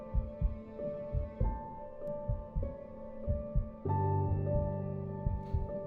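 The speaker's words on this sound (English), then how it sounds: "Yo, this heartbeat sounds crazy." A racing heartbeat thumps in quick double beats under a low sustained hum, the pulse steady and prominent throughout, with the drone swelling louder near the end.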